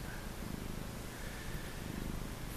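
Low, steady purring rumble from a cat close by, continuous with faint rhythmic pulsing and no voices.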